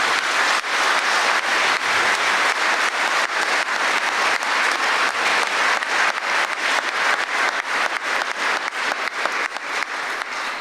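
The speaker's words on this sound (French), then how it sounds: "des applaudissements d'abord pour tous les participants" A crowd gives sustained, dense applause for the participants at a celebration of Kintoa's AOC status. The clapping stays loud and even and fades slightly toward the end.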